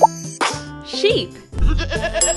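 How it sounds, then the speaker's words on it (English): A cartoon sheep bleats in a toddler coloring game, a short wavering cry mixed in with a voice naming the animal and bright game sounds. "Sheep."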